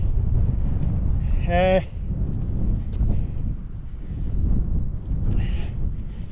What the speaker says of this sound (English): Bit breezy up here, but only to be expected.